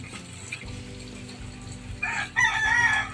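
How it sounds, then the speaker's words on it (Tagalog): A rooster crows from a short distance at night, a bright rising call in the second half after a quieter background of low hum and faint noise. "Ayun, manok."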